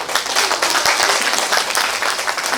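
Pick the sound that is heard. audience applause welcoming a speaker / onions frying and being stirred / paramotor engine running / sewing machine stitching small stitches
audience applause welcoming a speaker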